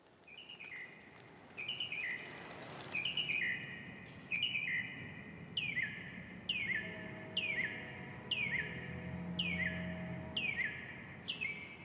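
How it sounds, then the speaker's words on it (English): Repeated bright bird chirps in a steady rhythm, roughly one call every second, clear over a low hum of distant freeway traffic in Los Angeles. "And I can hear the birds."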